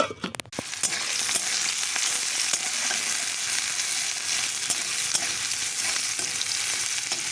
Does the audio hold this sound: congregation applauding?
no